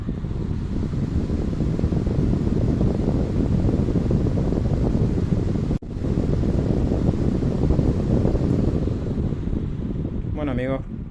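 A repaired turbo fan runs after being plugged in, giving a steady, full whooshing rush of air with a brief dropout midway and a faint chirp near the end.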